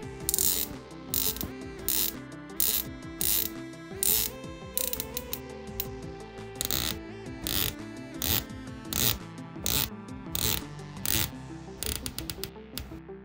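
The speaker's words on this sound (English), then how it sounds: "The Sub has a 120-click bezel and the SeaQ has a 60-click bezel." Rapid mechanical clicking of a Glashütte Original SeaQ or Rolex Submariner dive watch bezel being rotated, crisp ratcheting ticks in quick bursts with brief pauses, close and fairly loud, no voices.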